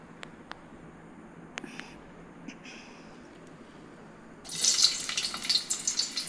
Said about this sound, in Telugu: ఆయిల్ వేడెక్కాక ఆనియన్స్ అయితే వేసుకుందాము